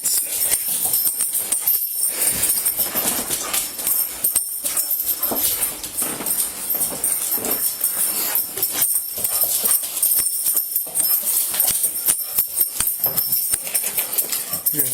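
Puppies whimpering and shuffling about in a kennel, soft whines and scrabbling sounds running steadily throughout, close by and with no talk over them.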